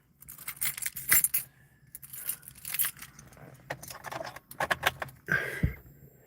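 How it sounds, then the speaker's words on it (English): Car keys jangle close by as they are pushed into the ignition, a run of bright metallic jingles and clicks with no talking. "Put my keys in the ignition."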